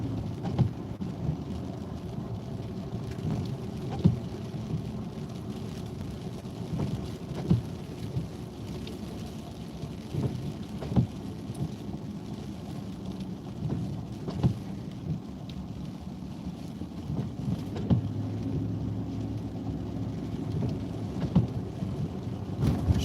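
A Minnesota thunderstorm under a tornado warning rumbles low and continuously as rain falls, heard from a vehicle on a highway in the western Minneapolis suburbs, with scattered sharper cracks and thumps breaking through the steady roar.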